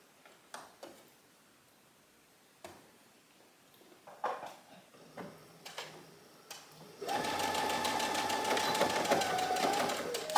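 A sewing machine stitches a strap on a knit top: a few soft clicks and handling noises first, then the machine starts and runs in a steady, fairly quiet whir for the last few seconds.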